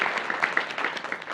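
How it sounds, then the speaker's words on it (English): Clapping from a town hall audience, a brief burst of moderate applause heard close up with no talk over it. "So a big round of applause to the organizers who put this together in such short notice."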